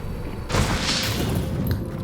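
A loud, close gunshot boom in a video game bursts out mid-clip over steady game noise and rolls into a rumbling tail with a faint later crack.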